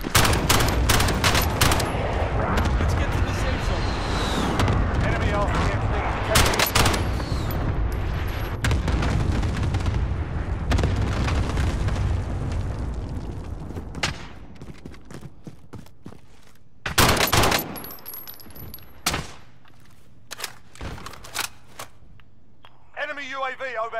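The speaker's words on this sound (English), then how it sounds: "Friendly precision airstrike inbound." Rapid bursts of gunfire and booming explosions from a precision airstrike in the shooter game Call of Duty: Modern Warfare, loud and dense at first, then thinning to scattered sharp shots and blasts, with radio voices talking over the action.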